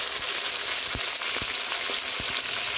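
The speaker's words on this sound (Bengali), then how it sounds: "মা যখন মাছটা ভাজছিল" Fish frying in a pan on a clay stove, a steady loud sizzle with a few soft stirring knocks and no talking.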